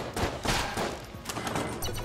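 Rapid gunfire from the video game Enter the Gungeon rattles in quick repeated bursts, with several sharp shots clustered close together over two seconds.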